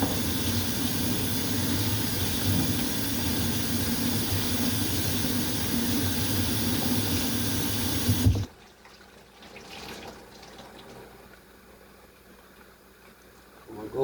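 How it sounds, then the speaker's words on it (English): Steady loud rush of running tap water as a pan is rinsed under it, continuous for several seconds before cutting off abruptly, leaving quiet room tone with faint handling. "Let me rinse this."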